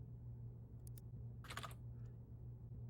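A few soft computer keyboard clicks come close together, followed by a short cluster of quicker taps, over a steady low electrical hum with no talking.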